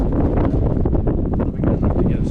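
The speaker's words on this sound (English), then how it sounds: "It's really windy today" Strong wind buffets an outdoor microphone beside water where an RC speed boat is being tested, a loud continuous low rumble with gusty flutter throughout.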